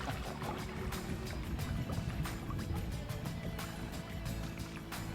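Motorboat engine droning steadily on open water while out fishing in Alaska, a continuous close rumble with splashing hull noise and no pauses.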